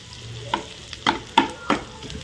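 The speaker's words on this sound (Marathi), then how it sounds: "तर हे जे ऑनियन आहे हे थोडंसं लाल होऊ द्यायचं" Onions frying in a pan for paneer bhurji, with a low sizzle broken by four or five sharp scraping strokes of a spatula in a loose rhythm, close and clear without talking.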